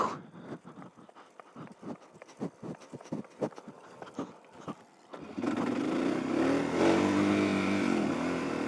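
A motorcycle that has been hard to start gives a series of rapid mechanical pulses, then catches and settles into a loud, steady running engine close by, with no talk.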